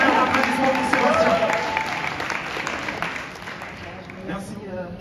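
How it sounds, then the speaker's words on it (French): An audience at a national neighbourhood gathering applauds for a speaker named Sébastien, a dense wash of clapping that slowly thins and fades over several seconds. "on donne un applaudissement pour Sébastien"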